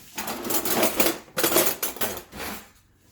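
A whisk beats a mixture with oil in a bowl, rapid close metallic clattering and scraping in several bursts with brief pauses between, ending quieter.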